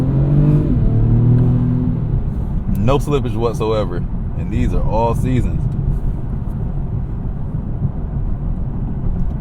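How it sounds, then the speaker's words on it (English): A 2024 Acura TLX's V6 engine drones loud and steady while it accelerates, its low exhaust note constant underneath someone talking over it. "I like this exhaust note a lot."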